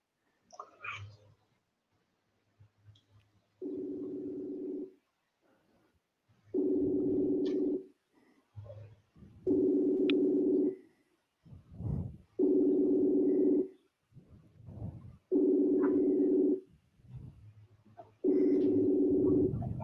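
A phone ringtone repeats in steady, evenly spaced tones, with quiet voices murmuring in the gaps between rings.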